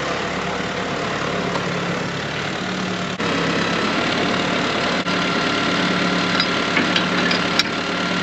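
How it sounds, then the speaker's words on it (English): A Ford 8N tractor engine runs steadily at idle, a low continuous drone that stays even and unbroken throughout, with no voices over it. "let's run the tractor back up to the house and get the manure spreader"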